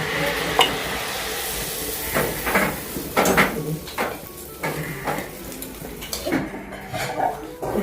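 Coconut pitha dough sizzles and crackles as it fries in hot oil, with steady bubbling broken by occasional clinks of a utensil against the pan. No voices are heard.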